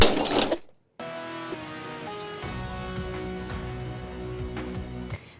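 At a smash room, a short crash of breaking glass opens, then after a brief silence a steady stretch of musical tones plays, with no further smashing clearly standing out.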